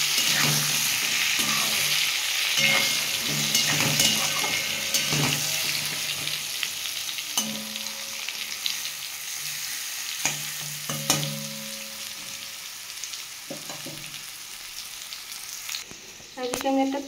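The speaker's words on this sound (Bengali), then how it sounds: "একটু সামান্য হলুদ, সামান্য একটু নুন দিয়ে বেগুনটা ভেজে নেব।" Pieces of brinjal frying in oil with turmeric and salt, a continuous close sizzle and crackle with periodic stirring clinks and scrapes of a utensil in the pan.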